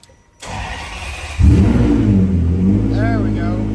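A Ferrari 599 GTB turns over and fires up after a quiet start, its engine catching loudly and settling into a rough, strong idle with a brief rev.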